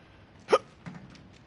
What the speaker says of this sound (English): Fucking hiccups, bro.